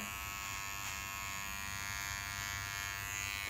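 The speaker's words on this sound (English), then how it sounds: "So I'm just going to take this trimmer" An electric hair trimmer buzzes steadily and close up as it cuts a boy's hair around his ear, a constant high motor whine with no talking.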